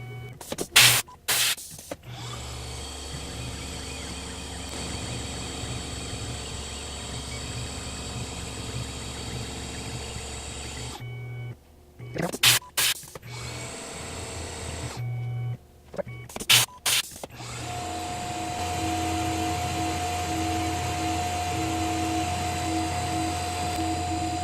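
Tormach CNC mill running a dry run cycle, a steady whirring motor drone broken by short bursts of louder mechanical clatter and whine, then a higher steady tone toward the end, no talking.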